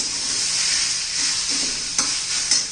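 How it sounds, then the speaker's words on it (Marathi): Prawn masala sizzles and is stirred with coriander in a pan, a steady high frying hiss with a couple of sharper spatula scrapes near the end, close and without talk. "कोथिंबीर घातल्यावर पण एखादा मिनिटभर आपण परतून घेऊया"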